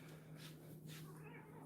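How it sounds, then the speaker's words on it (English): A house cat meows twice in quick succession, soft and fairly close, over a quiet room with a low electrical hum in the background. "Oh, Winnie, you're meowing."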